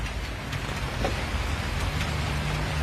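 Steady rain falls outdoors in the dark as a storm comes on, a dense even hiss throughout with no voices.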